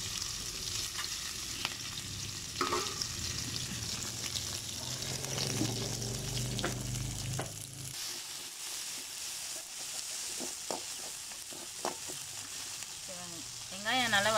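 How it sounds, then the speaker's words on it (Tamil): Chopped onions and green chillies sizzle and hiss in a pan, with stirring scrapes. After the ingredients go in, the frying settles to a softer crackle while someone speaks. "இப்போ நம்ம வந்து வெங்காயத்தை போட்டுக்கலாம் பச்சை மிளகா போட்டுக்கலாம்"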